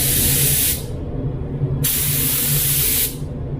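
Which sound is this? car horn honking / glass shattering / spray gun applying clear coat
spray gun applying clear coat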